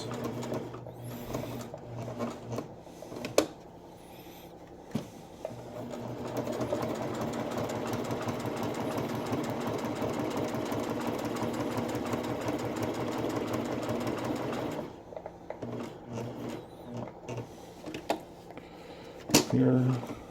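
Sewing machine stitching an appliqué shield cover, a long steady run of fast mechanical stitching with short stops and clicks before and after, faint room noise around it.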